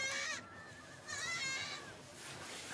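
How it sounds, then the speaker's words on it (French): A young goat bleats outside at a nomad camp in Mongolia, giving two or three wavering, nasal cries close by with short gaps between them. "C'est une petite chèvre dehors qu'on entend."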